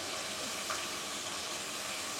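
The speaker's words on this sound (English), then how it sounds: "So the meat's sizzling away." Meat sizzles steadily in a stir fry pan, a continuous close hiss and crackle that stays even and unbroken, with no talking.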